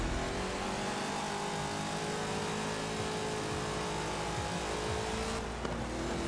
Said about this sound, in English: That was a huge amount of wheel spin.